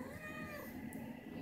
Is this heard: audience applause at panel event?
no